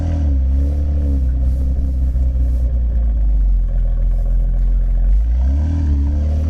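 A 2022 BMW X3 M accelerates hard in manual shifting mode, its loud, deep engine rumble filling the cabin and rising and falling in pitch through quick gear changes.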